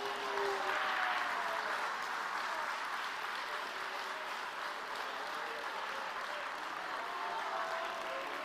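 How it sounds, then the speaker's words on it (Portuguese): A church congregation applauds continuously in a dense, steady wash of clapping that sounds fairly distant, with no talking over it. "Você pode aplaudir a Jesus."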